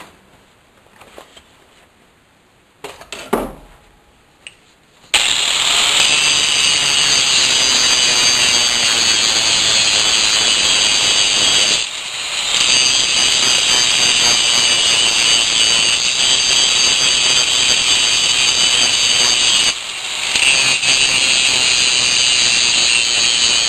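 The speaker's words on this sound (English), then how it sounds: "now we need to chamfer this edge so that we can get a good penetration in the welding" A power tool grinds along a metal edge to chamfer it before welding, a loud continuous high whine after a few quiet seconds, with two brief dips where it eases off the workpiece.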